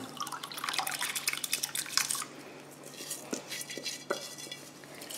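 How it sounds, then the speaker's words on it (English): Wet, drained rice slides and patters into a metal cooking pot, with drips, clinks and stirring scrapes, loud at first and then settling into softer scattered taps. "Now is the time to add our rice."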